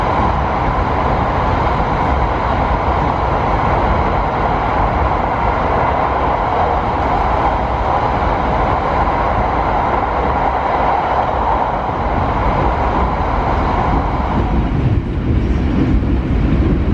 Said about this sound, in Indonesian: kereta api bisa dipacu hingga kecepatan 100 km per jam